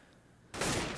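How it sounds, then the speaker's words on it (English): A loud burst of gunfire from Counter-Strike on the de_mirage map erupts halfway through after a quiet start, a dense blast of shots that stays loud to the end. "Jumping headshot onto Shara. Marvelous shot from Snacks."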